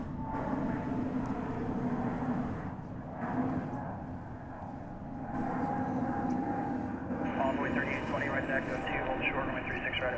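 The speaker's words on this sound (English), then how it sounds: "That was Frontier Flight 3326 to Santa Ana, California, Airbus A320 Neo." Frontier Airbus A320neo airliner at DFW Airport, a continuous loud jet roar that swells and shifts in pitch as it moves, with a voice talking over it throughout.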